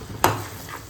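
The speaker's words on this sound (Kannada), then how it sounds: "ಒಗ್ಗರಣೆ." Tempering sizzles in a pan as it is stirred through pieces of leftover jowar roti: a single sharp scrape followed by a soft, fading hiss, heard close up with no talking.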